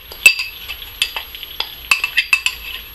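Honey and brown sugar mixture going into chicken thighs in a pan, heard as faint scattered sizzling with several sharp scraping stir and utensil clicks, no talking.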